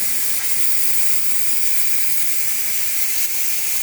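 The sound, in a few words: steam releasing from a pressure cooker after cooking soup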